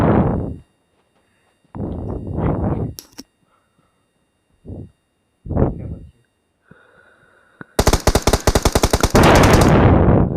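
Gunfire in the PUBG Mobile video game: a few separate loud bursts, then a rapid automatic volley near the end, close and sharp with quiet gaps between.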